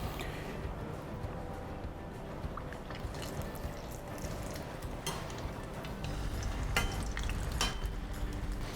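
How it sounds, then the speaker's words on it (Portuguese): Shrimp and cream cheese pastéis fry in hot oil with a steady, fairly quiet sizzle and crackle, with a few louder pops near the end and no speech. "vamos começar a fritar os nossos pastéis"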